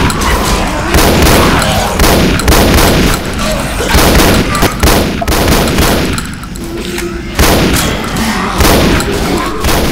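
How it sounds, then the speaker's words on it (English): A shotgun in a video game fires in a rapid, nonstop stream of loud booming blasts, dense and overlapping like machine-gun fire across the whole stretch, with explosions mixed in. "My shotgun fires like a machine gun."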